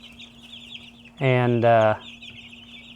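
A meat chicken gives one loud, close cluck lasting under a second over a steady background hum and faint chirping.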